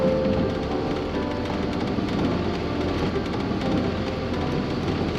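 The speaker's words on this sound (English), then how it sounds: "It's not going to settle with all the rain" Steady rain during a wet, stormy spell on a bike ride, a dense continuous hiss and patter with a low rumbling undertone and no talk.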